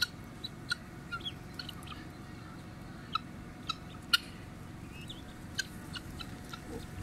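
Sharp, scattered guinea fowl calls ring out in short bursts over a faint background hum at a zoo, a few sounding close and others more distant.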